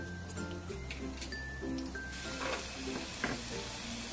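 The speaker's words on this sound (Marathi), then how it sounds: "त्याच्यामध्ये असा बारीक तुकडे केलेला लसूण घालून घेऊ, त्याला छान परतू द्यायचे" Finely chopped garlic frying in about three spoons of oil in a pan, a quiet steady sizzle with light stirring and scraping sounds, close and soft throughout.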